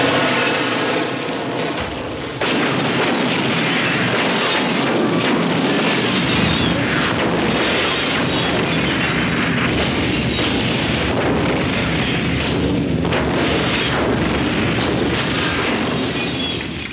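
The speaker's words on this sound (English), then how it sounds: "I'd guess this is also the film with the most explosions in the Criterion collection." Loud, dense action-film mayhem from John Woo's Hard Boiled, with explosions and rapid gunfire booming almost continuously with little pause.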